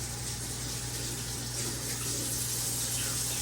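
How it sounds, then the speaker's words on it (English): Running tap water rinsing seeded jalapeno peppers in a kitchen sink, a steady close hiss of flowing water without pause and with no talking. "Rinse these off quick."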